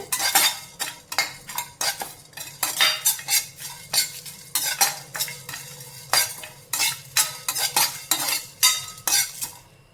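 Black chickpeas dry-roasted without oil in a kadai, stirred with a metal spatula in a brisk, repeated rhythm of close, sharp scrapes and rattles, with no talking.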